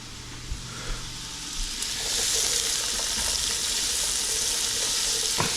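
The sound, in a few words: stirring vegetables frying in a pan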